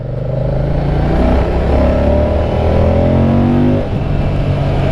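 A Moto Guzzi Mandello V100 motorcycle engine while riding: a loud, steady close-up drone with rising harmonic pitch as revs climb, a brief dip near the end, then continuing, with wind rush and no voices.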